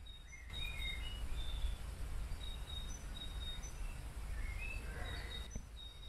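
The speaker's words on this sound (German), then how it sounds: "Da geht's dann los mit dem Vogelgezwitscher." Birds chirp and whistle at dawn on Corfu, several short calls scattered over a steady wash of insect or cricket hum, distant and fairly clear, with no one talking.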